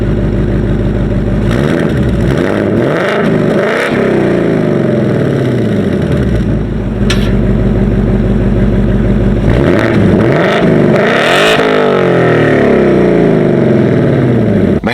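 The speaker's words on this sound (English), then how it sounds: "you want your exhaust to be absolutely screaming at the top of its lungs" A 2024 Ford Mustang Dark Horse with 500 hp revs its exhaust in track mode, loud and close, with repeated deep surges climbing and falling over a steady idle rumble.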